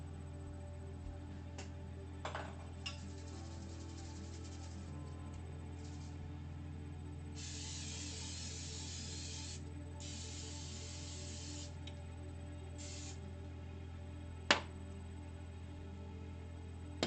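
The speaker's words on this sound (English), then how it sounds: "So let me spray this just to be safe." A cooking pan gets a few short hissing blasts from a spray can, several seconds long each, over a steady low background hum in a kitchen.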